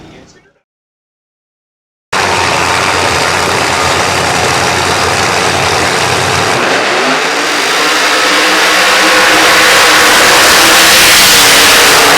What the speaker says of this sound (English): we're going to do huge side-by-side burnouts